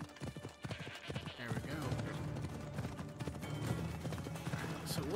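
A horse's hooves clip-clop at speed in Assassin's Creed Odyssey, with a whinny and rhythmic galloping beats under a voice, moderately quiet in the mix.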